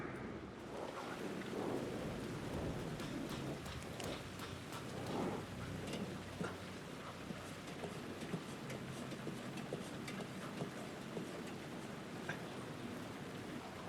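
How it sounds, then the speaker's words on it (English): Steady rainfall in the video game Alan Wake II, a dense continuous hiss of falling rain with soft low rumbles and scattered drop ticks, moderately faint and without voices. "The rain never stopped falling."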